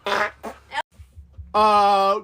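A fart sound effect starts after brief talk: a sustained buzzy blast about a second long, loud and close, following a few spoken words and a short gap.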